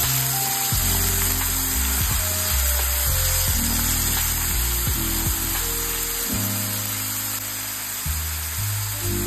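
Onion frying in a hot pan over high flame for a village-style chicken rassa, a constant bright sizzle close up, with deep intermittent clunks and scraping from the pan and utensil throughout.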